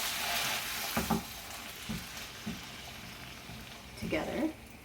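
Shrimp and bulgur stir fry sizzling in a skillet as leftover marinade is added, a steady frying hiss broken by a few louder stirring scrapes near the start and end.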